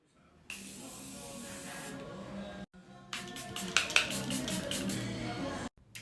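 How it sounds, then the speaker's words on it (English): Two bursts of makeup setting spray, a Morphe mist followed by a Charlotte Tilbury Airbrush Flawless setting spray, each a close, steady hiss lasting a couple of seconds with a short pause between. "I always do 2 sprays, so I'm gonna do the Morphe one first and then the Charlotte Tilbury Airbrush Flawless"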